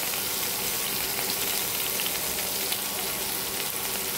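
Chopped potatoes and tomatoes fry in a pan with a loud, steady, close sizzle that crackles on without a break and with no voices.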